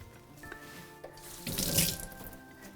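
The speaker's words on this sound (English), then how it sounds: "Just give that a little rinse." Tap water runs into a kitchen sink while a sprig of basil is rinsed for a caprese and sweet corn salad, a steady hiss that surges louder and splashier in the second half, close by with no talking.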